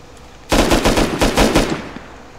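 Rapid automatic gunfire in the video game Rust rattles out in a burst of about eight close, loud shots after a short quiet moment, then fades into a brief tail.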